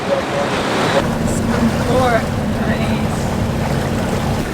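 Sailboat motoring under engine power through the Messina Strait, a steady low engine drone mixed with water and wind noise, with people talking faintly over it.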